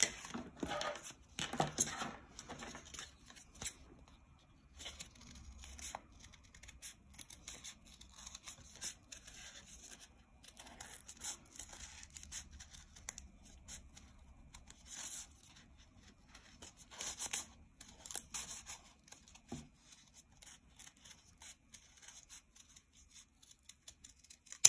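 Scissors snip around a paper heart in close, quiet cuts, arriving in irregular bursts with short pauses between them.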